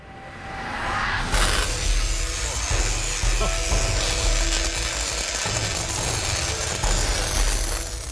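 A high-voltage coil cranked to full power at about 200,000 volts gives a loud, steady buzzing roar that starts abruptly after a quiet second and holds continuously with crackling texture.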